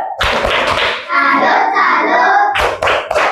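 A school class performs the 'tepuk salut' clap chant, bursts of rhythmic group clapping around children's voices chanting together, loud and close.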